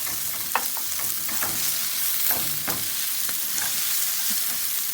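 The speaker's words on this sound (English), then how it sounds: "And allow them to saute with our potatoes and our spinach" Onions and sweet pepper saute with potatoes and spinach for a frittata, giving a steady, close, even sizzle with occasional stirring clicks throughout.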